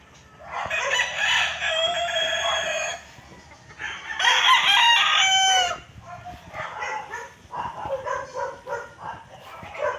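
Roosters and chickens crowing and clucking at a poultry farm, with several loud drawn-out crows in bursts followed by busier overlapping clucks and calls, and a dog barking faintly in the mix.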